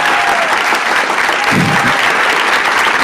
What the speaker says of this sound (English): First, to give a round of applause to my beautiful and incredible and intelligent and passionate and supportive wife, Gurkiran Kaur